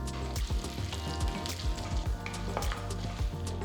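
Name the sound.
urad dal, chana dal and mustard seeds frying in sesame oil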